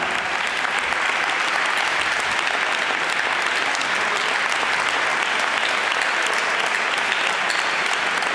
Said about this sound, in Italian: per cui un grande applauso a Zimmer e a Chicco Ravaglia.